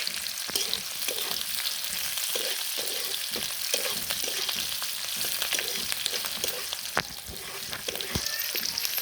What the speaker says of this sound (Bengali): এখন দেখেন তেলের সাথে পেঁয়াজ আর মরিচ কিন্তু ভালোভাবে লাল লাল করে ভেজে নিয়েছি